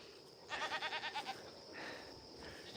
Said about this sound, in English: And the goats follow you.